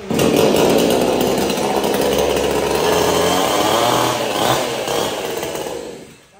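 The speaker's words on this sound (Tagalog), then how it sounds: "Oxford naman po na chainsaw." An Oxford chainsaw runs at a loud, steady buzzing idle close by, then winds down at the end.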